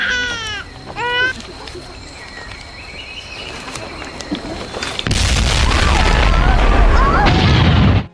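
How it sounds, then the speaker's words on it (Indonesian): A huge volcanic eruption blast from Krakatau in a film, arriving as a sudden loud, deep rumbling boom that swells and sustains after a quieter stretch with brief vocal sounds. "semua orang dikagetkan dengan suara ledakan yang begitu dahsyat"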